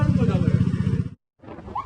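Motorcycles riding through city traffic, some making illegal U-turns and running signals: a close, steady engine drone under a loud speaking voice, a sudden cut to silence, then more traffic noise.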